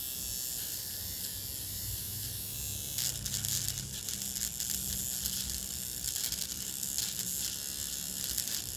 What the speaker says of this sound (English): You're supposed to be able to like easily shave your eyebrows or whatever it is that you need to do